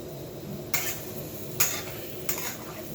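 Tofu being stir-fried in a pan, heard as three short scraping clinks spaced about a second apart, close by over a low steady background hum, with no talking.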